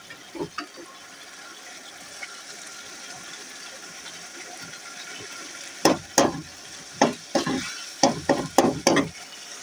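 Potatoes fry and get stirred in a pan, with a low steady sizzle and a run of loud clattering stirs in the second half, close and with no talk.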